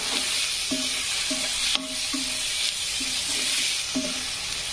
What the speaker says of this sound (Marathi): हळद टाकल्यानंतर देखील कांद्याला फ्राय करायचं